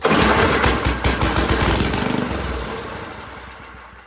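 An old engine being coaxed back to life roars loudly as the throttle opens, with a rapid pulsing chug that fades slightly toward the end.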